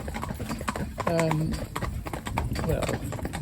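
Horse hooves clip-clop steadily on a resurfaced road behind a driven horse, a close, regular beat under someone talking.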